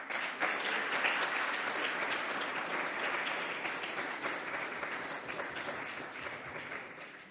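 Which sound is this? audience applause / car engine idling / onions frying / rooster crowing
audience applause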